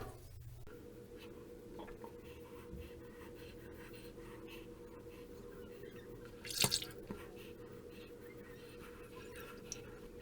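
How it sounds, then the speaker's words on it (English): Water drips and trickles faintly during shave lathering, with soft wet brushing throughout and one brief louder splash near the end, no talk. "Just add a little bit more water to make sure it's plenty slick."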